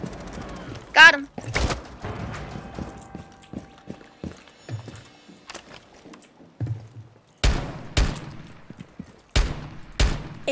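Pistol shots in Rainbow Six Siege come as sharp, loud cracks, some single and some in quick pairs, spread across the stretch with game noise and quieter talk between them.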